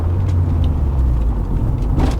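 A 1990s Rover 220 Turbo Coupe with about 200 bhp entering a roundabout, heard from inside: a steady, loud engine and road drone with low rumble throughout, no talking over it.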